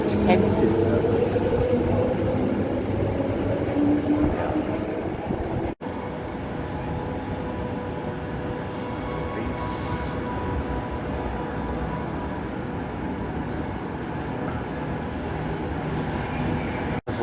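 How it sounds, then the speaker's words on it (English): Trains at Perth station, a steady low rail rumble and hum with a rising tone early on, heard at a platform with ambient station noise and some talk in the background. "There's a long line of trains there."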